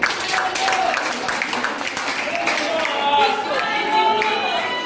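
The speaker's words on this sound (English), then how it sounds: "Clap for yourself very well." Church congregation clapping at a sermon, steady applause filling the room for about five seconds, with a voice or singing-like tones audible over it.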